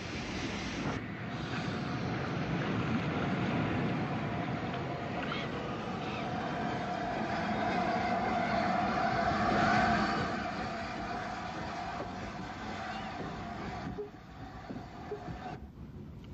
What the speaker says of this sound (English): A train comes down the incline to the harbour to meet it with an R1060 tank in charge.